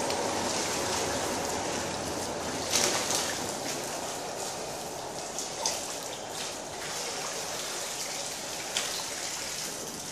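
Shower water runs in a continuous hissing stream with a few light splashes and knocks, steady throughout at close range.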